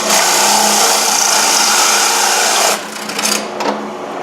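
A saw at roughly 840–850 RPM rips through 3/8-inch plywood while building transplant trays, a loud, steady motor-driven cutting roar for nearly three seconds before it drops away into quieter, uneven rattling as the blade winds down.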